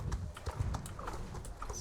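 Horse hooves gallop in the Star Stable video game, a steady rhythmic clip-clop of several beats running through the short stretch at moderate loudness, with no talking.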